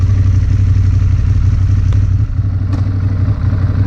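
Ducati Monster 821 motorcycle engine running at a steady throb, loud and close with a deep, uneven low rumble and mechanical clatter, no one speaking.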